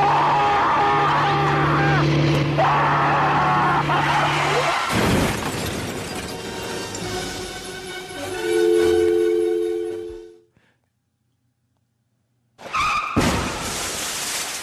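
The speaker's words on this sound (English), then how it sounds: "We have a longer skid, but it's the same crash." A car skids with a long tyre screech, then crashes loudly with breaking glass, followed by silence and a short burst of loud debris noise at the end.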